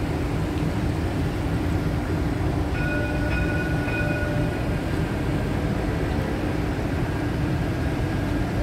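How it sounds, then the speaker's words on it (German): A tram passes along a street in Dubai, a loud, steady rolling rumble with faint high tonal whines from the wheels and motors, continuous throughout. "Straßenbahn fährt."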